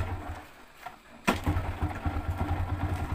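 A motorcycle engine cranks and catches with a sharp start, then settles into a steady, throbbing idle, close and moderately loud with no talking over it.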